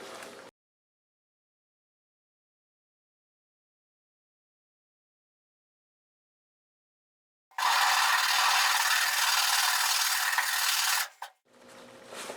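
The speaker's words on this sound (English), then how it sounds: "I'm trying to focus the sanding paper to try to get that Bondo out of there" Coarse 40-grit sandpaper is worked by hand over Bondo filler on a car body, giving a loud, dense scratchy rasp that runs continuously for a few seconds after long silence, then breaks off, with a brief fainter scrape at the end.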